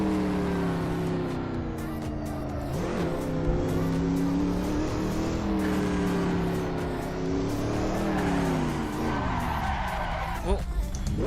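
In the Assetto Corsa racing game, a race car engine roars continuously and climbs through the gears with dips at each shift. Tires squeal and skid along the way, and a voice talks briefly over it.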